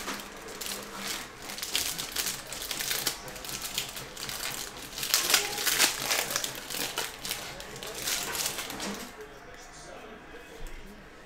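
Crinkly foil wrapper of a Topps Series 2 baseball jumbo pack being torn open, a long stretch of close, loud crackling and ripping that fades into quiet near the end, with a voice talking over it.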